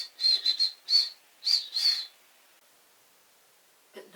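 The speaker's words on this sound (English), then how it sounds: "So Peter went to the door and whistled the little pixie tune that Chinky had taught him." A short whistled pixie tune of five clear high-pitched notes in a quick lilting rhythm, heard alone and close, followed by silence.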